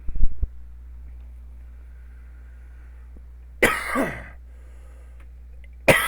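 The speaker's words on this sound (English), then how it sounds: "sorry, I thought I'd stopped coughing" Two sharp coughs break a quiet room, the first followed by a brief rasping trail, the second cut short at the end.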